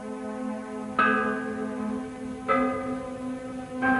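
An ancient bell cast to produce two notes is struck three times, each stroke ringing out with a bright layered tone that hangs and decays slowly into the next, loud and clear with no voices.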